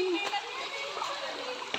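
River water splashes steadily as laundry is washed in the Bakong river while a child swims nearby, a continuous rushing wash with a few sharper splashes and voices in the background.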